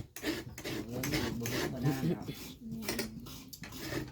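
Coconut being grated by hand for the filling of a Thai steamed dessert, with a continuous scraping and rasping at close range, broken by a few pauses, while a person talks over it.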